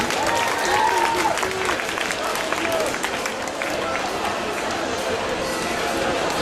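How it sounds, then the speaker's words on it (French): At a Japan Expo cosplay award ceremony, a crowd applauds a costume, continuous clapping mixed with crowd noise and voices talking over it, with faint whistles or cheers early on. "Encore des applaudissements pour ce costume."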